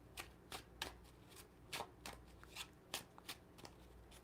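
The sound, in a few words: shuffling a pack of playing cards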